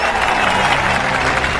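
Crowd clapping and applauding in a steady, dense wash of claps, loud and continuous throughout with no distinct voices standing out.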